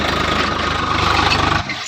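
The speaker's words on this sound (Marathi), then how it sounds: "ट्रॅक्टर आपला हाय फसवर चालू आहे" A Swaraj 742 XT tractor engine runs steadily in high gear while working a wet field, a close, loud, throbbing mid-pitched drone that cuts off abruptly near the end.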